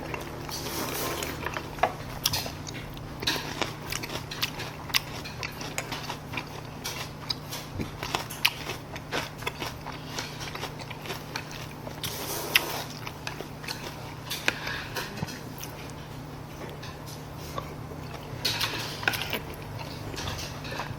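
Close, crunchy chewing and biting of crispy tangsuyuk, Korean sweet and sour pork in small pieces, with a steady run of small crisp crunches throughout and no talking.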